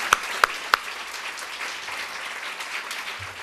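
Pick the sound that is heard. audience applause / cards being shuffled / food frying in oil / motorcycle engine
audience applause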